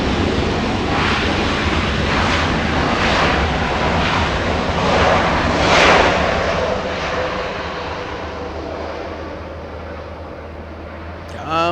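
A Delta Airbus A321 airliner landing at LAX: a loud, steady roar of jet engines that swells and then slowly fades as it passes, heard from nearby with wind noise.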